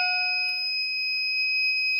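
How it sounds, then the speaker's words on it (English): The piezo sounder on a fire alarm panel shrieks during a system test, a loud, steady, piercing high-pitched tone held without a break. "See how loud the panel piezo is?"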